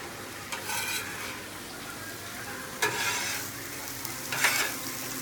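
Hash browns fry on a 36-inch Blackstone griddle, a steady hiss with a few brief bursts of louder sizzling as the potatoes are moved or pressed.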